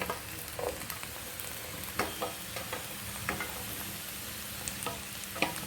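Chopped onions drop into a cleared spot among frying okra in a pan, a low steady sizzle punctuated by several sharp spatula taps and scrapes against the pan, no one talking.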